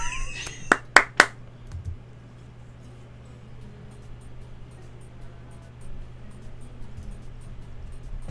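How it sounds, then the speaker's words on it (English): Three quick, sharp hand claps ring out close together, used as a sound effect for a stick figure animation, then a long stretch of quiet, low hum follows. "I'm going to have a stick figure clapping here."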